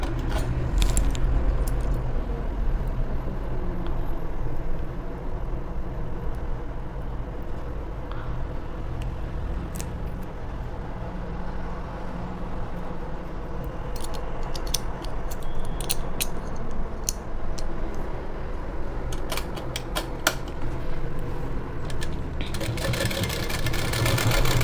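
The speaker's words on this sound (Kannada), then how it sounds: "ನೋಡಿ ಈ ಥರ ನಿಧಾನಕ್ಕೆ ನಾವು ಇದ್ರ ಮೇಲೆ ಸ್ಟಿಚ್ಚನ್ನು ಹಾಕೊಂಬರ್ಬೇಕು." A sewing machine stitching a blouse runs as a steady, low mechanical hum at slow speed, with faint clicks and rattles toward the end and no talking.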